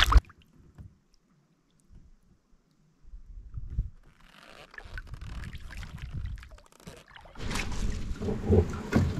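A small boat paddled through water on an early spring outing: soft irregular splashes and drips of the paddle strokes, growing busier and louder toward the end, close by and with no talking.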